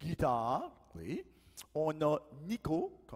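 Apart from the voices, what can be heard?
No distinct noise like a dog, phone or traffic.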